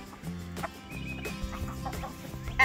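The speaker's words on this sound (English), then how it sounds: "I'm trying to get the rooster to come to me." Soft clucking from a rooster nearby, a few short throaty calls over a quiet outdoor background.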